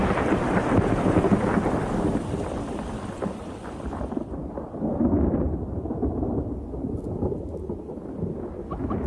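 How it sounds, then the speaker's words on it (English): A seasonal Okavango thunderstorm rumbles loudly and continuously, deep thunder rolling under a steady wash of rain, with gusts buffeting the microphone. "Each day, thunderstorms break overhead."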